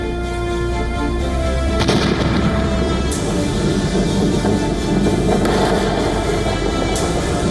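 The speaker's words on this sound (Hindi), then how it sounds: "अमेरिका में उड़ान भरने से पहले ही एक रॉकेट आग का गोला बन गया।" A rocket at a US launch site explodes before liftoff in a continuous, heavy roar of blast and rumbling fire. Sharp cracks and bursts punch through at intervals, and no voices are heard.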